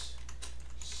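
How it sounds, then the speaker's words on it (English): Quick keyboard typing, a short burst of several close, crisp key clicks over a steady low hum, with no voices. "I'm just gonna type in Lim, bro."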